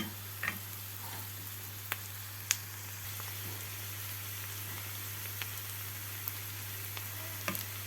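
Chopped onions stew gently in a pan as part of preparing homemade noodles, giving a faint, steady sizzle with occasional soft pops and clicks over a low, constant hum.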